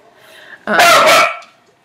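A single loud, close dog bark bursts out sharply, then fades over about half a second in a home setting.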